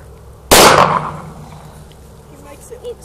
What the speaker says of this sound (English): You're shooting a gun.